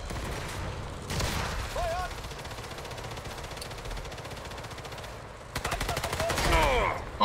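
Bursts of gunfire in the World War II shooter Sniper Elite 5, an early volley followed by a long rapid automatic burst near the end, loud and close, with faint tonal game sounds between the shots.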